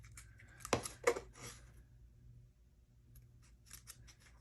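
Scissors snip through about nine inches of ribbon for a handmade paper heart gift tag: two close, crisp cuts in quick succession, then quiet handling noises.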